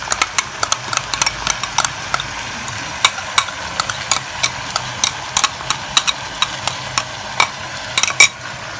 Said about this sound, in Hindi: और अब हम इसको मिक्स करेंगे अच्छी तरह मिक्स करके।